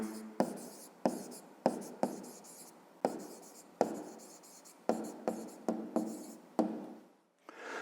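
Pen writing an answer on paper in a school maths exercise, a run of short scratching strokes in quick bursts, close and fairly quiet, with no talk over it.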